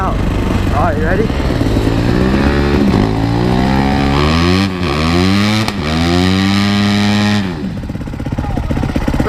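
A Yamaha YZ450F dirt bike doing a burnout roars close and loud, its engine revving up and down in repeated sweeping surges before settling to a rough idle.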